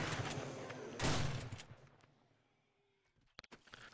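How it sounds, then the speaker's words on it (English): Shotgun blasts in 7 Days to Die during a multiplayer horde fight, a loud burst of shots in the first half-second and a heavier blast at one second, fading into quiet before a couple of sharp clicks near the end. "It's just a lot easier using a shotgun."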